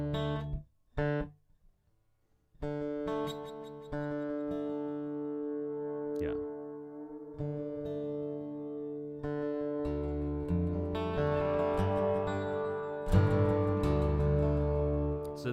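Acoustic guitar played through delay and Blue Sky reverb pedals, sustained chords ringing with long ambient tails, a couple of short strums up front, then layered swelling notes building louder toward the end.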